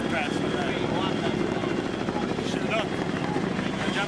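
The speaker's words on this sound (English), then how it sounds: "helicopter one with a parachute attached to that." Military helicopter roars steadily overhead at Fleet Week in New York, with continuous rotor thump and engine drone.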